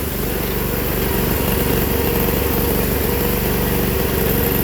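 An old Sears lawn tractor engine runs with its mower deck, a loud, close and continuous droning rumble with an even pulsing beat that never lets up.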